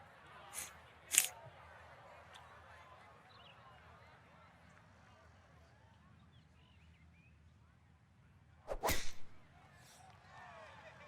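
Golf club swings striking the ball in a PGA Tour video game: a sharp crack near the start and a louder whipping hit later, heard over steady background ambience while people talk.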